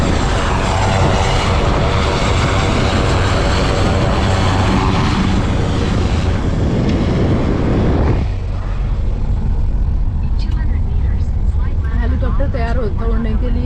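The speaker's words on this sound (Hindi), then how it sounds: "हेलीकॉप्टर तैयार होता उड़ने के लिए" A loud, steady helicopter engine roar fills the scene at Omkareshwar, with rotor churning that drops sharply partway through, leaving a lower idle hum and distant voices.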